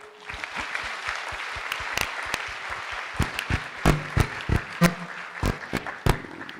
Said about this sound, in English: The next clap is for everybody else in the room.